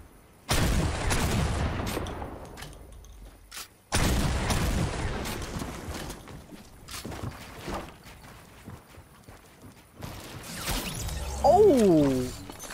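In Fortnite, a sniper rifle fires loud, sharp cracks with long decaying tails, two big blasts a few seconds apart, amid scattered footsteps and other game effects.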